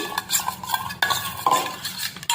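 Spoon stirring ground black pepper and spices into a bowl of omelette mixture, with repeated scraping clinks and swishes against the bowl in an uneven rhythm, close and fairly loud.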